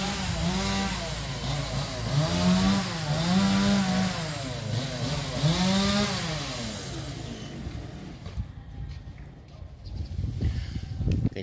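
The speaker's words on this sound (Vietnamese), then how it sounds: "Mấy anh em mình chuẩn bị cưa cây sao siêu cao rồi nè." A chainsaw cutting a very tall tree in a church grounds in Tan Hiep, Kien Giang, revs up and down in repeated surges, loud and close, then cuts out to quieter rustling and crackling near the end.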